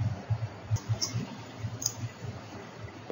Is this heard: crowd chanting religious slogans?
no